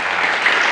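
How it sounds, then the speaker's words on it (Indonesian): Applause from an audience at an Indonesian stage show, a dense, steady burst of clapping heard close and loud, alone and without voices. "Tepuk tangan yang"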